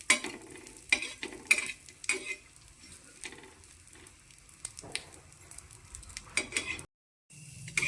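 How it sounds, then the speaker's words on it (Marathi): Masala frying in a pan for a village-style stuffed eggplant dish, with coriander and chana dal added: a steady crackling sizzle broken by scraping stirs and clinks of a spoon against the pan, then a brief gap before the sizzle resumes. "आता मसाला तळून घेते"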